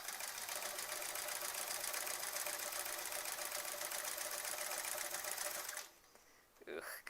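Sewing machine free-motion quilting a sampler quilt with appliqué, a rapid steady mechanical hum and needle chatter running continuously, then stopping abruptly near the end with a brief rustle.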